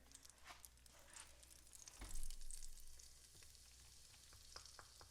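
Hot oil poured over flour for green scallion pancakes gives a faint, crackly sizzle with a brief louder burst in the middle, quiet and close with no talking.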